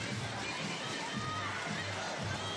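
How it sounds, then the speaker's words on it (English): An arena crowd at a FIBA 3x3 women's basketball final in Xiantao roars in a dense, sustained wash of cheering and shouting, steady and enveloping, with a commentator's voice running underneath. "Wen Xiaoli makes the crowd go wild."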